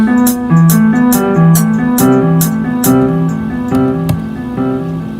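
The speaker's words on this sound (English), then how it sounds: "It's delayed. I'm putting delay on there, so now it's gonna sound like this." A looping electronic beat with punchy percussion hits and a bass line, each note trailing off in faint repeating echoes.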